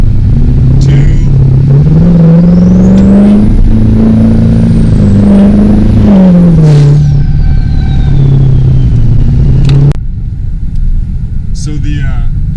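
A Duramax diesel pickup truck launches from a stop using launch control, its engine roaring loud and close as the pitch climbs and shifts through gears, then the drone cuts off sharply near the end.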